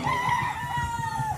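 A rooster crows near a chicken coop, one long drawn-out call with a steady tonal line that carries through the whole moment over a low rumble of background noise.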